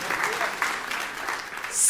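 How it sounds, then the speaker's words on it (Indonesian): A church congregation applauds during an Indonesian-language sermon, a brief burst of steady clapping that fills the room, with faint voices mixed in. "Yang percaya beri tepuk tangan untuk Tuhan kita."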